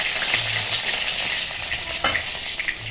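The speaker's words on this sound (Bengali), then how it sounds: "একটু টমেটোটা ভাজা ভাজা হয়ে গেল" Half a tomato frying with whole spices in a hot pan, giving a steady, loud, close sizzle and crackle throughout, with a few brief stirring scrapes and no talk.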